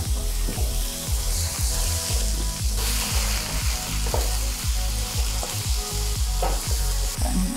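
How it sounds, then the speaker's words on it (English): Vegetables and mushrooms stir-frying in a hot pan over high heat give a loud, steady sizzle. Regular, rhythmic scrapes of stirring run through it, close up and with no voices. "So the name stir fry means you are stirring constantly while you're cooking over high heat."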